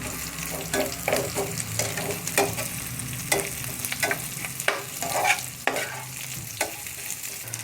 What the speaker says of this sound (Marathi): आता त्याच्यामध्ये हे आपण फ्राय केलेलं कारलं आणि कांदा टाकून घ्यायचं आहे. त्याला मिक्स करून घेऊ मस्त.